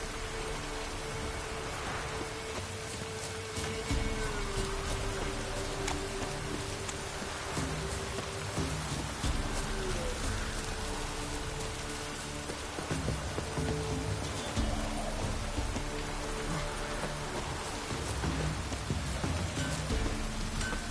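A heavy downpour pours down in The Witcher 3, a dense, continuous roar of rain striking surfaces, close and unbroken, with a low ambient drone underneath and no voices.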